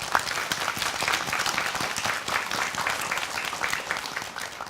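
Audience applause for a team on a Korean variety show, a dense steady patter of many clapping hands that stays loud and even throughout with no break.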